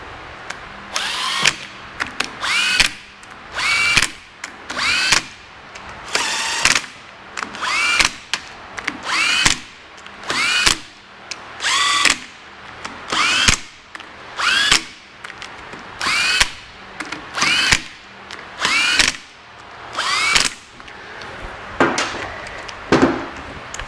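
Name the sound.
power drill running in engine bolts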